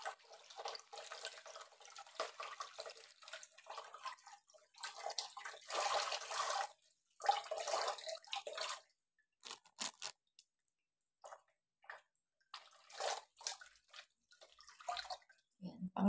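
Tap water runs and splashes in a sink while mushrooms are rinsed by hand during vegetable prep for dinner, in intermittent bursts with scraping and handling noises, fairly close and moderately quiet.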